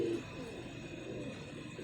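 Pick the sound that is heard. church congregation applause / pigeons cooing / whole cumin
pigeons cooing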